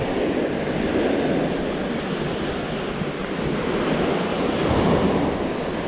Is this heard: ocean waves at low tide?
yes